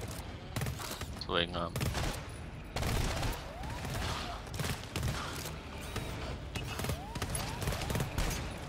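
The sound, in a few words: gunfire from the video game GTFO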